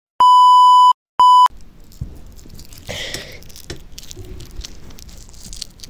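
Two loud, pure censor bleeps, one long and one short, cutting in right at the start, followed by quiet rustling and faint handling noise.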